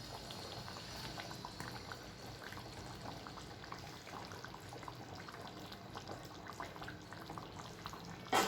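Fish curry with raw mango pieces pressed into the hot gravy simmering in a pot, a soft continuous bubbling close by, low and steady with no talking.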